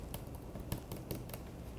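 Fingers tap an Apple Smart Keyboard in a quiet run of soft, uneven keystroke clicks with irregular spacing, very faint and with no talking.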